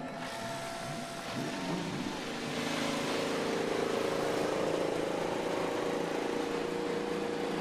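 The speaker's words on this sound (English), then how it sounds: "Drivers, start your engines." IndyCar race car engines start up on the grid at the Firestone Grand Prix of St. Petersburg, a mechanical whirr and rising drone that swells into a dense, sustained engine hum heard from a distance.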